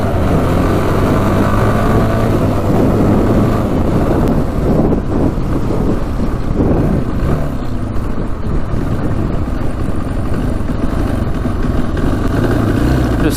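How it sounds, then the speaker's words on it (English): A street-legal dirt bike's single-cylinder engine revs hard and loud at close range, roaring continuously with some wind buffeting across the microphone. "Just happy it revs out completely like this."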